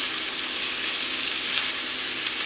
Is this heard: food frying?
yes